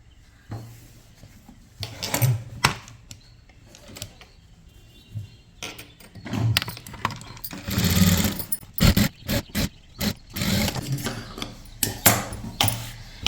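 Sewing machine stitching the lining of a maxi dress, in repeated short bursts of whirring separated by pauses and small handling knocks, close and moderately loud.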